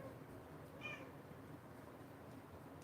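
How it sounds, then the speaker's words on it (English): A cat gives a single short meow in a quiet room, faint and slightly distant against low background noise. "Got a cat coming in here."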